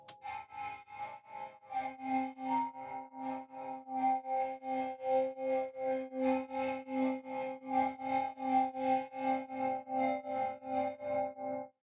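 A celesta run through the AudioThings Gong Amp plugin on its warp chords preset gives a wobbling, distorted metallic chord that pulses rhythmically about twice a second, sustained and processed throughout.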